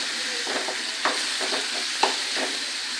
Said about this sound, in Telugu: ఇప్పుడు వేగినాక మనము టమాటాలు వేసుకోవాలి. ఇవి టమాటాలు కొంచెం మగ్గాలి.